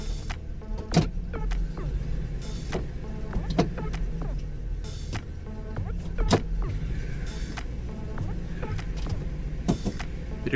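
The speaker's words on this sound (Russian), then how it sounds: "Как слышно, двигатель работает." A car engine idles steadily with a low hum throughout, a car whose automatic transmission selector would not shift out of park, with clicks and small mechanical noises over it.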